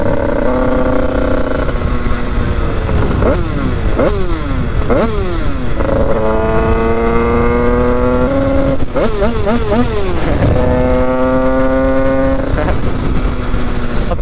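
A 100cc motorcycle engine warming up idles and revs repeatedly, its pitch rising and falling in loud, close bursts over a steady running drone.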